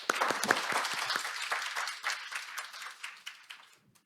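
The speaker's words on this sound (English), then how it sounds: "Please give him a big round of applause." Moderately sized seminar audience at a metaverse forum claps together, a steady patter of hands that gradually thins and fades out over about four seconds.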